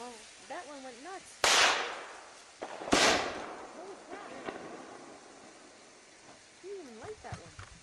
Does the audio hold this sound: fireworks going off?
yes